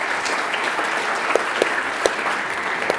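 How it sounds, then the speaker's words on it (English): A conference audience claps for the speakers at the end of a panel discussion, with steady, sustained applause and a few sharper individual claps standing out near the front. "join me in giving a big round of applause to our excellent speakers"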